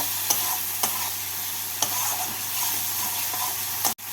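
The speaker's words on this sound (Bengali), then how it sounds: "টমেটো দিয়ে মশলাটাকে কষিয়ে নেব" Masala frying with chopped tomato in a pan, a steady sizzle broken by a few sharp spoon taps against the metal and a low hum underneath, close up.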